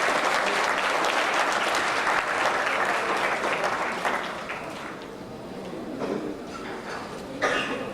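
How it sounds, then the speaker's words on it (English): Sustained applause from a large conference audience for moderators and plenary speakers at the 2006 Global Forum, dense and steady for several seconds before thinning toward the end with a few scattered claps. "Shall we give another big round of applause for all our moderators and plenary speakers?"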